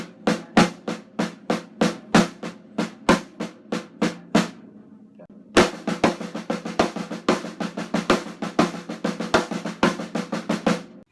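A drum set plays a final accent pattern on the crash cymbals. Sparse, evenly spaced hits come first, then after a brief gap a denser run of strikes with cymbal wash, close and loud.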